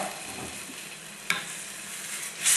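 A whole can of tomatoes tipped into a hot pan while making chicken parmigiana, a steady close hiss and sizzle with a brief splash, no talking.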